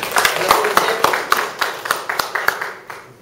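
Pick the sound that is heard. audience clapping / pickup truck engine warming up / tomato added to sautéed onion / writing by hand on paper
audience clapping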